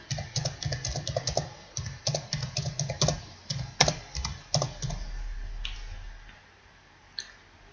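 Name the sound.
typing answers on a computer keyboard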